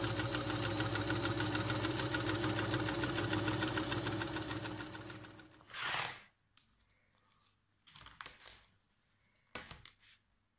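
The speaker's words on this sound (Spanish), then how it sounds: "para acolchar del centro hacia un lado, del centro hacia el otro, para que no salgan arrugas" A sewing machine quilts fabric for a multipurpose cloth basket, running in a steady, loud rapid whir for about six seconds before stopping, followed by a few short bursts of stitching separated by quiet pauses.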